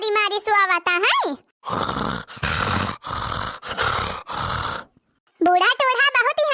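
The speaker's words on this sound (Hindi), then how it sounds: "कैसा खर्राटा मारी मारी सुआवता है" A man snoring heavily in his sleep, with loud, rasping grunts repeated in a slow rhythm and close to the listener, framed by an exaggerated, sing-song voice before and after.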